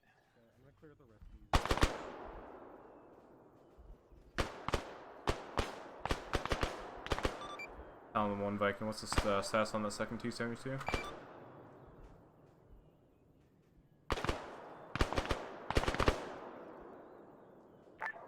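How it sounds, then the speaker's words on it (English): Bursts of automatic gunfire in ArmA 3 come in sharp, loud volleys, with a long sustained stretch of firing in the middle and further bursts near the end, while someone talks over the radio. "Guns are hitting on target but having no effect."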